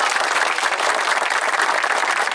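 A crowd applauds a team at a tournament plaque and cup award ceremony in Izmir, with steady, dense clapping throughout.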